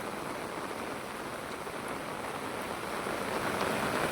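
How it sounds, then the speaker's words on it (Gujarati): Heavy monsoon rain falls on a flooded village in Gujarat, making a steady, even hiss of downpour that swells slightly toward the end, with no voices. "હજી વરસાદ ચાલુ જ છે"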